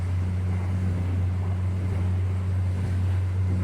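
A Crest III 25ft XRS pontoon boat pushes through wakes on a lake, its engine a steady loud low drone mixed with rushing water, hull slap and wind buffeting the microphone throughout.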